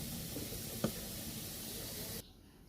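Red chili sizzles in hot oil in a pan, a close steady hiss with one faint tap that cuts off abruptly near the end.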